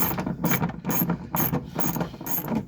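A ratcheting hand tool works a bolt on a 2021–2024 Ford F150 wheel well liner while a Husky Liner is being installed, giving five quick bursts of close, rapid clicking at a steady rhythm with no talk.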